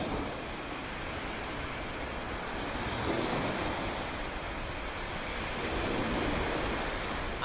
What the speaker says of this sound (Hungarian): Meg egy kis állókép is így a hullámzásra.